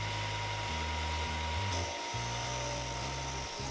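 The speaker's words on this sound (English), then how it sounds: "And now I'm going to round it over here at the disc and belt sander." A disc and belt sander rounds over the edge of a wooden seesaw seat, giving a close, loud motor whine with a grinding hum that shifts in pitch as the wood is pressed and eased against the abrasive.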